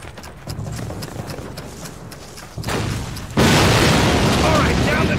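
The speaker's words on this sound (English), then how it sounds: "This cannon's about to go boom." A cannon in a Call of Duty war video game fires with a heavy boom, followed by a sudden, loud burst of broadband noise that sustains to the end amid battle clatter.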